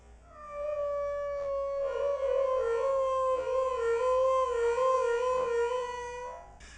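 A human voice imitates a dolphin laughing with a long, warbling, whistle-like chatter that wavers in pitch, sustained for several seconds up close before cutting off.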